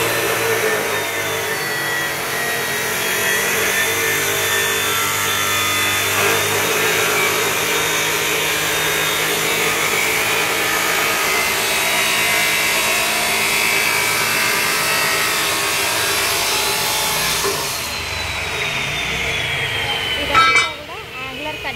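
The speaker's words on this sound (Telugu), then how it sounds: "యాంగులర్స్ ని వాళ్ళు డిఫరెంట్ మెజర్మెంట్స్ తో అయితే కట్ చేసుకుంటున్నారు" Power saw cutting metal angle iron pieces to measured lengths in a workshop, a continuous loud whining buzz that holds steady for most of the time, then shifts and drops near the end with a brief louder burst.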